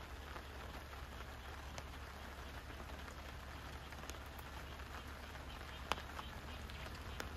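Light rain patters at a campsite, a faint steady wash of drops with a few sharper ticks against surfaces, quiet and continuous throughout.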